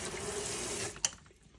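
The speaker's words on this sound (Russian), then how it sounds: "А если вот сюда, то обычная холодная вода." Cold water runs from a mixer tap into a sink as a soft, steady hiss, then cuts off with a small clack about a second in, faint and close, with no talking.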